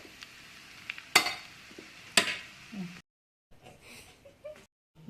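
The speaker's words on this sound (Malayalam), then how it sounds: "ചോറ് ചേർത്ത് നന്നായി ഇളക്കി യോജിപ്പിക്കുക." Cooked rice is stirred into soya rice in a pan, with two sharp scraping clacks of a spoon against the pan, soft sizzling and shuffling in between, then quieter rustles after a brief silence.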